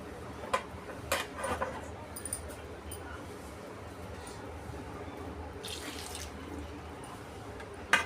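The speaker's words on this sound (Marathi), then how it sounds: "तर आता मी अजून थोडंसं पाणी टाकणार आहे यामध्ये." Water poured into a pan of masala-stuffed brinjal curry, a low steady splashing wash heard close up, broken by a few clinks and light taps of utensils near the start and a brief hiss midway.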